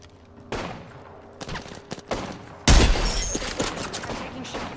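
Gunfire in the video game Apex Legends: scattered bursts of shots, then a loud, dense volley of rapid fire with crackling impacts, fairly close and dominant.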